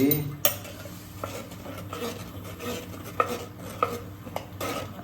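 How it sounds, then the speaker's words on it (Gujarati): Tamarind pulp pressed through a metal sieve in a home kitchen while making street-style dabeli, with scattered clinks and scrapes of metal on a bowl over a soft, steady background. "હવે આપણે એને ગળણી વડે ગાળી લઈશું."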